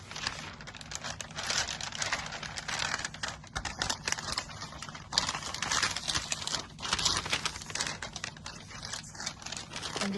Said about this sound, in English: I'm going to be crinkling a lot of paper right now.